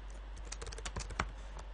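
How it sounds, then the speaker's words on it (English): Rapid typing on a computer keyboard, a dense run of close, crisp key clicks with a slightly heavier press near the end, over a steady low electrical hum. "what about the space bar on the keyboard?"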